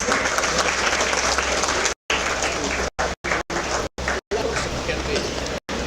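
Loud audience applause at a felicitation ceremony, a dense continuous wash of clapping broken by several abrupt brief dropouts to silence.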